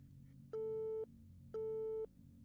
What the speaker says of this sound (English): he hung it up without even putting the phone down?